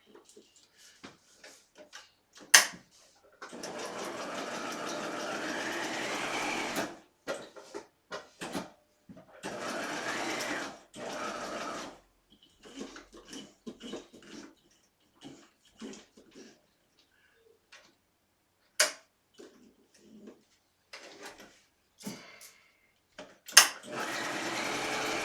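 Bursts of sewing machine stitching as stay stitching runs along the edges of corset muslin pieces, several runs of a few seconds each broken by pauses and small handling clicks, fairly quiet and close.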